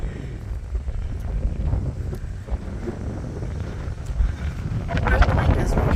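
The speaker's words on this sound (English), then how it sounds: "Oh, it's super windy up here." Strong wind on a hilltop near Hibbing, Minnesota buffets the microphone with a steady low roar, gusting louder toward the end, with no other clear sounds above it.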